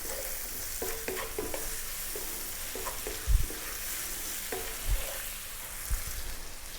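Vegan ginger broccoli fried rice is stir-fried on high heat, giving a steady sizzle broken by repeated scraping and tossing strokes of a utensil against the pan, with a few heavier knocks.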